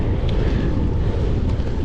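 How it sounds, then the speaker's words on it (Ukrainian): Strong wind roars and buffets the microphone in a continuous low rumble on a cycling trip in Cherkasy Oblast, Ukraine, with no voices. "але вітер безпощадний"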